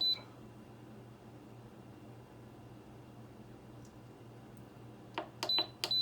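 An electric pressure cooker is set for bone broth in a kitchen, giving a quick run of sharp beeps near the end after a long stretch of low hum and quiet background noise.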